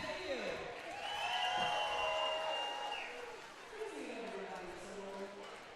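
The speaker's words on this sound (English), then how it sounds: "Opposing rounds of applause going on with the crowd." A crowd at a junior roller derby championship game applauds and cheers in rounds, a broad steady wash of clapping under loud talk throughout.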